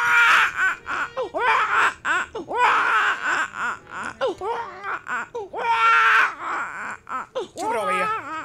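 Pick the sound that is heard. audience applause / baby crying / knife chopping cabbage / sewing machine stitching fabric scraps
baby crying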